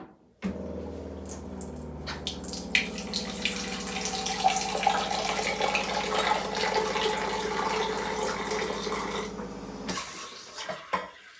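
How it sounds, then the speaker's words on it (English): Filtered water runs from a Waterdrop D6 reverse-osmosis unit, a steady close stream splashing into a container for about ten seconds, with faint clinks near the start, then cutting off abruptly. "Now let's test the water coming out from the filter."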